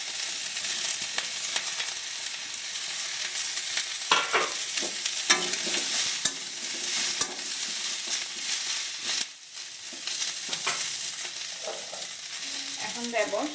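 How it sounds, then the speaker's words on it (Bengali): Diced onion sizzles in a hot pan alongside capsicum, a steady bright frying hiss with intermittent scraping stirs and spatula clicks, close and fairly loud, with no talking. "এখন দিচ্ছি পেঁয়াজ ডুমো ডুমো করে কাটা"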